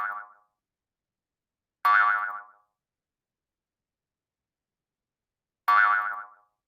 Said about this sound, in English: hopefully you guys heard that little boing